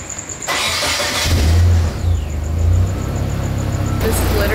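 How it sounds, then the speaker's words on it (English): A Nissan 240SX S13 engine is running during a coolant flush, catching with a rough surge and then revving unevenly before settling into a steady run, loud and close. "Running the car."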